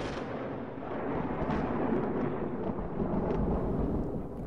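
Thunder from a lightning storm rolls continuously with a deep, heavy rumble, swelling and surging for several seconds without a break.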